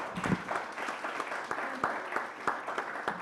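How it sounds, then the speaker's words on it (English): A small audience claps sparsely for a speaker after a fireside chat on the green revolution, with distinct individual claps in an uneven rhythm, fairly faint and not far away. "let's give her a thunderous applause"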